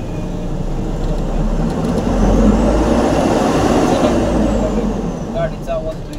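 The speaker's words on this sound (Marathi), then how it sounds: "गाडीचा आवाज येतो काही" Heavy road traffic rumbles past on a highway between Jigani and Padgha, with trucks and buses swelling louder midway through a continuous low roar and a brief brake-like squeal near the end, while a voice talks over it.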